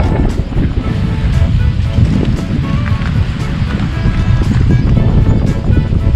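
Strong wind gusts buffet the microphone on an exposed mountain ridge on the Izu peninsula, a steady loud rumbling roar with no letup and no voices.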